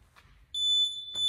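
A home workout timer gives a steady, high electronic beep for under a second, stops briefly, then starts again, clear over a quiet background.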